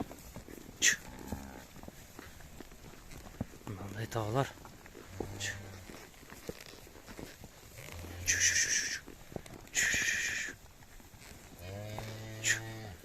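Cattle and small calves moo repeatedly while moving to summer pasture, deep and drawn-out low calls from several animals at varying distances, while a person speaks briefly between them.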